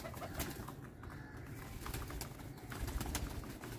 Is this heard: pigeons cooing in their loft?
yes